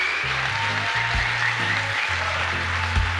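Audience applause at an award ceremony, a steady continuous clapping from a crowd filling the room for the whole stretch, with no voices over it.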